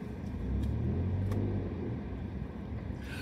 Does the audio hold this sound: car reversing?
yes